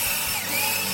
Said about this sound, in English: get your sander and start sanding that thing